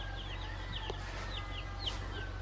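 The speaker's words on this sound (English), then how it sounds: "The chickens here." Chickens on an Australian homestead raising meat birds cluck and chirp in short repeated calls, moderately close over a steady low hum and background noise.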